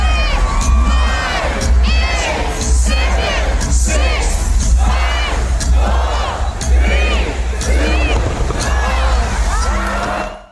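A large New Year crowd gathered in a square shouts and cheers loudly and continuously, with many excited voices and whoops overlapping. No clear countdown stands out.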